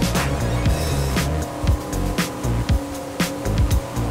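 Scanner 1200 HT FB maxi RIB boat accelerating toward 30 knots, a loud engine roar with repeated pitch sweeps and thumps as the hull slaps the water, with brief bursts of spray and wind.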